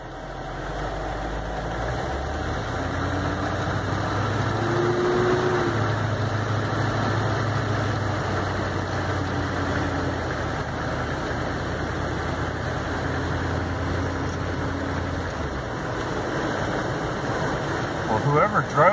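A HMMWV engine runs steadily with a deep, even rumble and rattling vibration as the vehicle drives slowly over light snow, heard from inside the cab with someone talking over it throughout.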